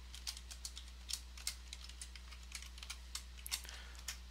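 Someone types a root-login command into a Linux terminal on a computer keyboard, a quick run of light key clicks over a steady low hum, close and quiet.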